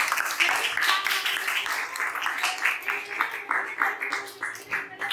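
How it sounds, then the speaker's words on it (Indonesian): A class of students clapping in a classroom, a fast dense patter of many hands going steadily for several seconds, with some voices mixed in. "beri tepuk tangan untuk kelas"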